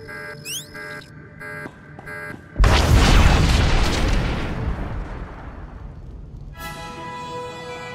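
A massive explosion tears apart the Deathmark in Star Wars: The Old Republic, arriving suddenly after tonal electronic beeps and then rolling away in a long, loud roar that slowly fades, with tonal chimes returning at the end.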